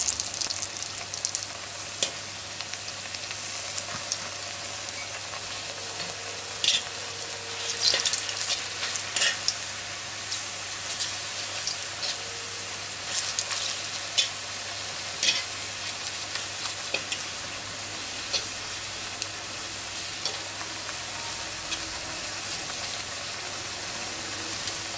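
Plantain slices fry in a pan with a steady, quiet sizzle and crackle, scattered small pops and stirring clicks breaking through the hiss throughout, with no talking.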